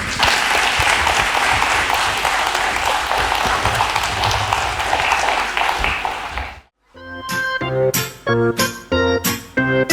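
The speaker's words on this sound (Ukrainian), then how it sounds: "оплески для Софійки" An audience at a family folk ensemble's performance bursts into sustained applause for a girl named Sofiyka. The clapping cuts off abruptly and gives way to sung, rhythmic music.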